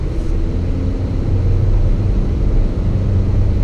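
A 2019 Honda Civic engine drones while driving, a steady low rumble with road noise heard from inside the cabin, continuous and fairly loud.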